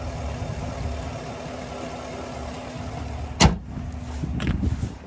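The 6.2 liter V8 of a 2025 GMC Yukon XL Denali Ultimate idles with a steady low rumble, heard close and continuous, interrupted once by a sharp thump partway through.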